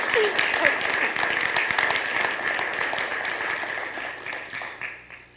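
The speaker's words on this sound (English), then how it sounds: "calls for a round of applause" Sustained applause from an audience at a legislative board meeting, steady dense clapping that holds for several seconds and slowly tapers off at the end, with faint voices mixed in.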